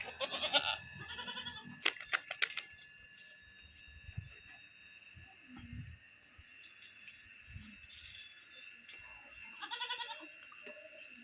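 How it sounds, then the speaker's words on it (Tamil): Goats on a farm, including a buck, bleat in several bursts, with a cluster near the start and another toward the end, close and moderately loud over a steady rural background hum. "இதுதான் கிடாய். ஆமா, அதான் கிடாய்."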